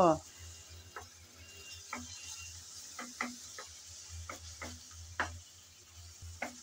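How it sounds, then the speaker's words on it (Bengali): A spoon or spatula repeatedly taps and scrapes a pan as ginger and garlic paste fries with onion, with regular knocks under a faint sizzle and a low background hum. "আদা রসুন পেঁয়াজের সাথে নেড়ে চেড়ে হালকা করে ভেজে নেব।"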